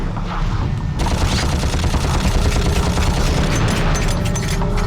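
Bombs go off in a Ratchet & Clank game, a loud, continuous roll of blasts and crackling booms. The detonations pile on top of each other almost without a gap and are heard alone, with no talk.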